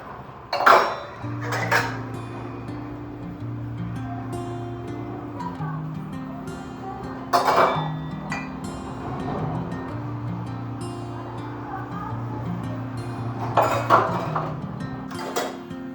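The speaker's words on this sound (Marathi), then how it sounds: "भांडी सगळी धुवून झाली होती" Utensils are washed at home, with pots and dishes clanking and clinking in three distinct bursts over a steady background hum.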